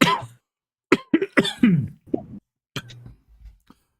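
Someone in the back seat of a car coughs and laughs in a run of short, sharp, close bursts broken by brief pauses.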